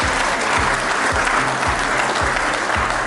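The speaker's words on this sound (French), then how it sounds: "s'il vous plaît, on applaudit encore pour Yolande" Audience applause at a disability and diversity gala fills the room in a steady, dense burst of clapping, close and loud, continuing without pause for several seconds.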